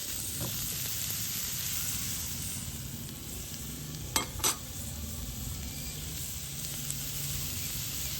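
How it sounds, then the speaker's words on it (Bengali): Chopped capsicum sizzles steadily in a hot pan as it is gently stirred, giving a faint, continuous frying hiss with a couple of soft clinks from the utensil partway through. "পাঁচ মিনিট ধরে আমি এরকম হালকা হালকা করে নাড়িয়ে নেব ক্যাপসিকামটা"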